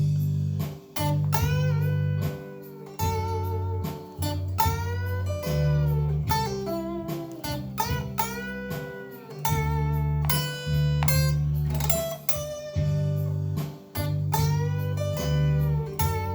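A lead guitar plays a riff with embellishments, little twists and double stops, sounding as a melodic line of sustained, bending notes over a steady backing, loud and continuous with no talking.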